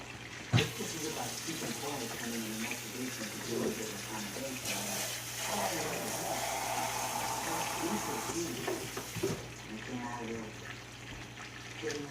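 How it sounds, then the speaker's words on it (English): Water pouring from a tap into a pot of red beans as a continuous rushing stream, with a person talking over it, ending near the close. "Let me add some water to this."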